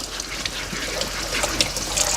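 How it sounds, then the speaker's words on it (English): Kitchen tap water runs steadily while dishes are rinsed, a continuous broadband splashing and trickling stream at close range with no talking. "start rinsing some stuff"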